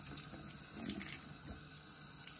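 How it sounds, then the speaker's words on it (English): Cold water running steadily from a kitchen tap as fish is rinsed clean of fat and skin, a continuous close splashing hiss with small shifts as the flow hits the fish and sink. "All that comes away under a tap that's running,"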